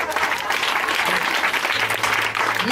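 A church congregation applauds during a Sunday worship service, a loud, dense and steady wash of clapping from a crowd that fills the whole moment.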